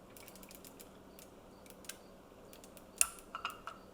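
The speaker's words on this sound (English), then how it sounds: "There we're charging the shutter." Quiet mechanical clicks and ratcheting ticks, with a sharper snap near the end, as the shutter of an SLR film camera is wound by hand up close.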